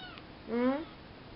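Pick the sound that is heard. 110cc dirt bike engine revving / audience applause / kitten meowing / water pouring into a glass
kitten meowing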